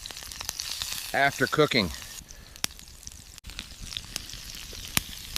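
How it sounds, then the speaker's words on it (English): Steak basted in butter with garlic and thyme sizzles in a pan, a crackling hiss dotted with sharp pops, while a voice briefly speaks over it. "Basting the steak in butter with garlic and thyme increases the flavor."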